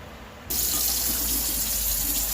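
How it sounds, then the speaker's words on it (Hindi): Water starts pouring suddenly into a mixer grinder jar and keeps splashing steadily with a continuous, close hiss. "अब मैं थोड़ा पानी डालता हूँ इसके अंदर।"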